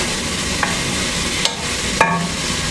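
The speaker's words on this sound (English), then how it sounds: "All right, so in go the onions. Can you hear? Listen." Onions sizzle in olive oil in a pot, a steady close hiss of frying broken by a few faint clicks of stirring.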